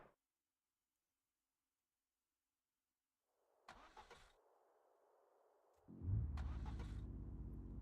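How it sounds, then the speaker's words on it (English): A video game car engine comes to life after silence: brief starter cranking, a low idle, then the engine catches and settles into a steady, louder hum with a second starter burst on top. "the car starts running and then it plays the starter sound"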